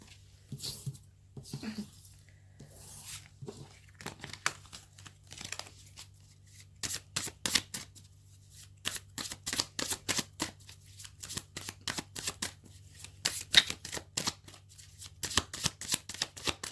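A deck of cards is handled, shuffled and drawn up close, giving rapid papery riffles and crisp flicking bursts that build into quick repeated bursts, faint and intimate, with a steady low hum underneath.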